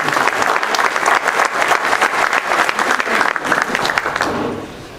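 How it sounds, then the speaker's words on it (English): Audience at a Greater New Orleans Sports Foundation quarterback club luncheon applauds the ladies: a dense, close burst of clapping from many hands that holds steady for about four seconds and then tapers off quickly. "Let's give our ladies a nice round of applause."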